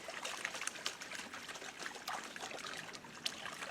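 Water sloshing and trickling in a gold pan during panning for gold in Arizona, a steady close splashing and dribbling with a few brighter splashes and no talk.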